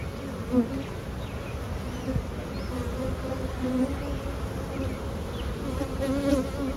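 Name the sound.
honey bees buzzing around hive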